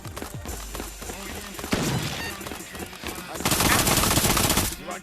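Shotgun gunfire in the video game Espire 1, a dense run of loud blasts from several guns firing close together over a busy game soundtrack, ending in a louder burst.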